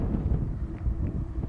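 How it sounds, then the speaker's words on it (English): A gust of wind buffets a microphone outdoors near the coast, a steady low rumbling roar with fluttering swells and no talking. "It's a little gust of wind, but it's not too bad."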